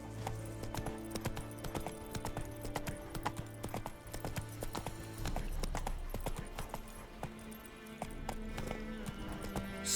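A horse gallops in The Witcher 3 with rapid, rhythmic hoofbeats close up, and a short whinny mixed in over a low ambient game background.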